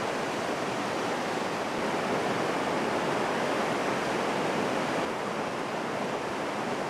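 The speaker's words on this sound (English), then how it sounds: "Gradually, more than 100 million gallons of water filled the dock over several days." Water floods into a huge dry dock holding an aircraft carrier, a continuous, loud, hissing rush of flowing water that holds steady throughout with no voices.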